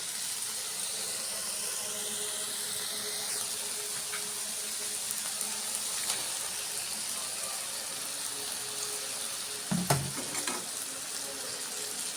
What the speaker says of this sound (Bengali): এখন মাছটি দিয়ে দিব